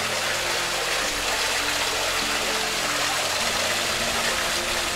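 A water pump at a hotel near Alona Beach, Bohol, in the Philippines runs with a constant low mechanical hum beneath loud, steady gushing water that stays close and unbroken.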